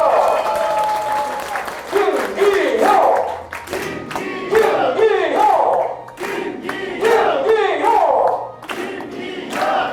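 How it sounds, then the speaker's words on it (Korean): A crowd at a party members' meeting in Pohang claps and cheers in repeated rousing bursts, loud and near, with shouted cheers rising and falling in waves over steady applause. "자, 여러분 큰 박수와 축하의 함성 부탁드리겠습니다."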